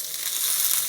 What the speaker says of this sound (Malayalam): ഇനി ഇതിലേക്ക് നമ്മൾ വെച്ചിരുന്ന വേവിച്ച് വെച്ച ബീൻസ് കൊട്ടും.